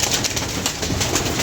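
Pigeons kept by a pigeon fancier coo in soft, repeated calls over a broad steady background hiss, nearby, with no voices.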